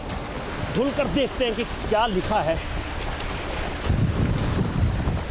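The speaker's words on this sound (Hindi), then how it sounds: "हम समुद्र के किनारे ही खड़े हैं" Sea waves washing on the shore, a steady broadband surge heard throughout, with wind buffeting the microphone and someone speaking over it.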